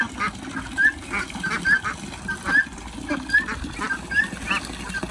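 Ducks playing and splashing in water let out a string of short, nasal quacks and honks at a steady, fairly regular pace over a constant wet, churning background.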